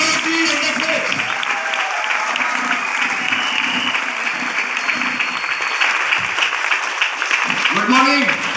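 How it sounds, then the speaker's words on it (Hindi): A crowd at a Vestige business meeting claps loudly and continuously for a speaker being welcomed to the stage, a dense sustained applause with voices mixed in and a small swell near the end. "थोड़ी सी जोरदार तालियों के साथ"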